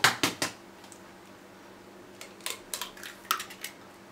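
A whisk beats eggs with butter and sugar in a bowl for banana bread, giving quick bursts of light clinks and scrapes: three sharp taps at first, then a rhythmic flurry after a pause.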